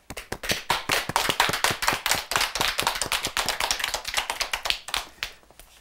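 An audience applauding a nun's entrance as a guest on a Catholic broadcast, giving crisp, close hand claps in a quick uneven patter that swells and then tapers off near the end.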